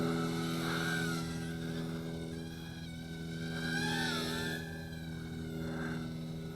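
A steady, high-pitched motor whine drones continuously, rising and falling slightly in pitch like small propellers buzzing close by, from a Xinlin X165 nano drone in flight.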